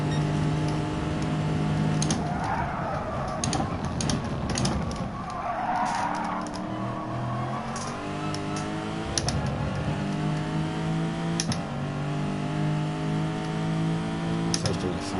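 Race cars in a racing video game, including a VW, roar past with rising and falling engine revs and repeated tire squeals and skids, a dense, loud stream of motor noise.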